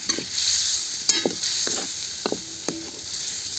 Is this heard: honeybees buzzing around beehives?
no